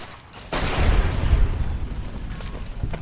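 Hip-fire gunshots from the Fallout New Vegas video game, a dense burst of booming shots starting about half a second in and continuing as a loud, rapid rumbling volley with a few sharper cracks toward the end.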